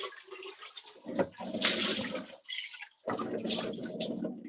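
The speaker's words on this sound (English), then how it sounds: "I'm gonna rinse this out real quick." Running water rinses out a blender container in a kitchen during a cooking class, a steady splashing gush that swells and breaks off briefly before resuming, close and fairly loud.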